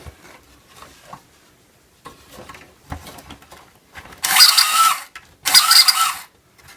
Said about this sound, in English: It sounds like a fast moving gear kind of squeak.